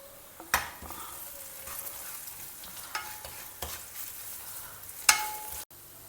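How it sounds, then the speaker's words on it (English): Onions sautéing in a pan for a spiced vegetable masala, a soft sizzle broken by sharp clinks and scrapes of a spatula against the metal, plus a louder knock near the end, no voices. "saute the onions till they get a brownish color"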